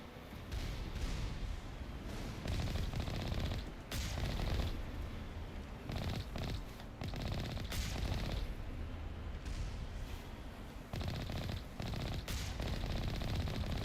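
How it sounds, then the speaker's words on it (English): Rapid gunfire and bursts of shooting aimed at the player in the video game Mass Effect: Legendary Edition, dense overlapping volleys with brief pauses, moderately loud and continuous. "There's a lot of stuff shooting at us."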